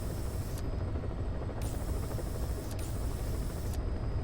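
Helicopter from Metal Gear Solid V in an Afghanistan setting, a steady loud rotor drone with dense low-frequency thrum running throughout, with brief shifts in the high hiss but no break in the engine noise.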